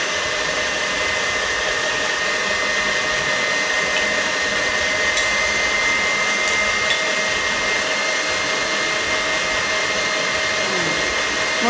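An electric mixer creams shortening and butter for mint dark chocolate cupcakes, giving a steady, even motor whine that runs unbroken and alone at moderate loudness.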